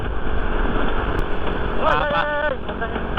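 Strong, steady wind roars and buffets the microphone throughout, with a brief voice calling out partway through.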